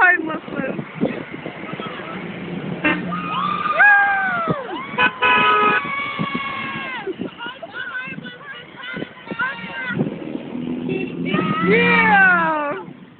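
Car horns honk from vehicles circling a roundabout in Mount Isa, with sustained tones mixed among excited shouting and cheering voices close by.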